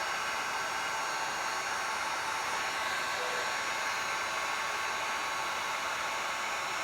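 Heat gun blowing hot air onto black plastic vehicle trim, a steady, even hiss-like whoosh with no breaks, moderately loud and close, alone without voices.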